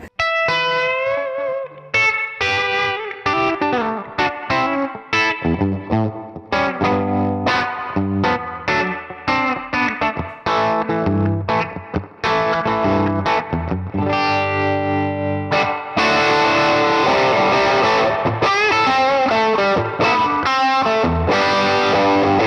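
An electric guitar from a Saltwater Sky rig, run through reverb and tremolo effects, plays a continuous run of shimmering, distorted notes and chords, loud and alone, with a brighter, denser wash toward the end.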